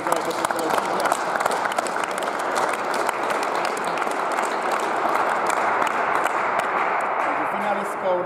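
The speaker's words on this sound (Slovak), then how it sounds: "preto by som poprosil pre obe aktérky ešte veľký potlesk za predvedené výkony" Indoor tennis crowd applauding the two women's singles finalists at a tournament closing ceremony, steady, dense clapping from a moderate audience, sustained evenly throughout with a few louder claps standing out.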